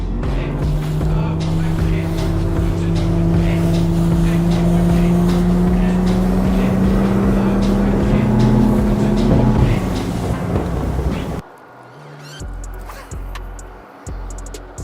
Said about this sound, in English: we're about to punch my brand new CX21 Pro CAYMAS 2024 bass boat